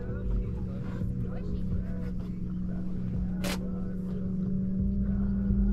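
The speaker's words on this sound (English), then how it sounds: "you can hear the engine in the background and a little music" A boat engine drones steadily in the background with faint music, beneath close conversation between people aboard.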